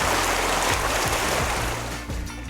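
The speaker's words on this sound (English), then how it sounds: "I've just turned the second swim jet on" Swim jets in a backyard pool churn out a loud, constant rushing surge of water, close and unbroken, with turbulent gurgling throughout.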